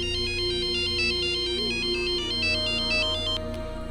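A phone ringtone plays for an incoming call, a loud repeating electronic melody of quick high tones that cuts off near the end.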